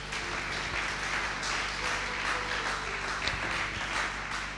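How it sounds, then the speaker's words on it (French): A church congregation applauds and cheers to acclaim Jesus, producing a dense, steady wash of clapping and voices that fills the room evenly for the whole stretch, with no single speaker standing out. "Est-ce qu'on peut acclamer Jésus?"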